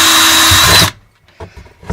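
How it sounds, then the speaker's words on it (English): A case trimmer cutter spins while trimming .223 brass, a loud steady whirring buzz that cuts off abruptly after about a second, followed by faint clicks and handling knocks. "we'll just push the cutter in and give it a spin"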